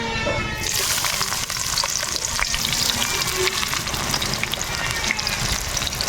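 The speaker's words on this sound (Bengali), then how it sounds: "পেঁয়াজটা আমরা লাল লাল করে ভাজি নিব" Chopped onions sizzle and spit steadily in hot mustard oil in a kadai, a dense, close frying hiss with soft stirring scrapes that holds at an even loudness throughout.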